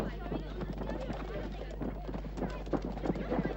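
Horse hooves clip-clopping in a steady rhythm, with voices talking over them and a low constant hum underneath.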